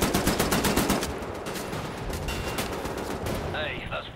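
Rapid, heavy gunfire-like blasts from a castle cannon battle in the game Wolfenstein: The New Order, a dense continuous barrage of booming shots that thins out toward the end.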